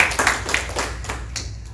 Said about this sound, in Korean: 참 감사의 박수 한번 드리겠습니다.